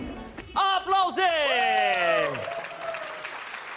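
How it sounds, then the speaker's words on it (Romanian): A studio audience at a TV anniversary show applauds, a dense wash of clapping under a loud, sliding vocal whoop that fades out as the clapping goes on. "Aplauze!"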